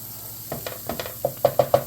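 Onions frying in a pan for potato and onion pierogi, a soft sizzle with a run of short stirring scrapes and knocks that grow louder and more regular toward the end, close by and with no talking.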